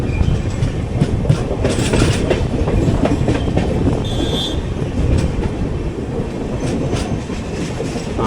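The Kacheguda–Madurai Superfast Express, heard from an AC 3-tier coach, pulls into Kurnool City station: steady loud rumble of rolling coaches with rhythmic clickety-clack over rail joints and a brief wheel squeal, no voices.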